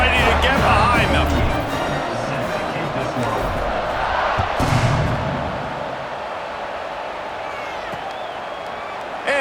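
A large stadium crowd in College Football 26 roars steadily through a kickoff during Texas Tech versus West Virginia, a dense, continuous wall of cheering with a commentator talking over it.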